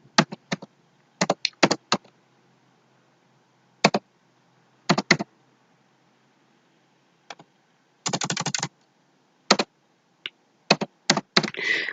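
Someone types text on a computer keyboard while working in a Microsoft Word document, producing close, crisp keystrokes in irregular bursts and short runs separated by silent pauses, with no talking.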